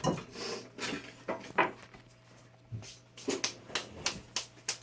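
A wooden spoon stirring gluten-free coconut flour batter in a bowl, with a rhythmic series of knocking, scraping strokes against the bowl, close and clear, pausing briefly midway before resuming faster.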